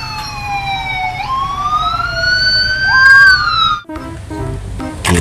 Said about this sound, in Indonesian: Mobil polisi Sabara.